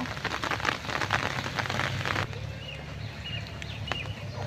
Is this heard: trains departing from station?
no